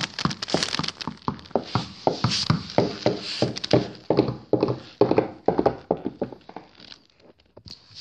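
Horses' hooves clip-clop in a close, brisk rhythm of sharp knocks that slow and fade toward the end, with no clear neigh standing out.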